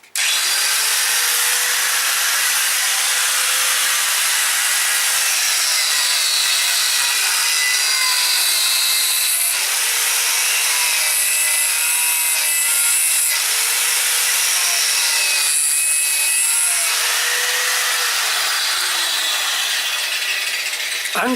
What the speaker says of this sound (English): Angle grinder through rubber.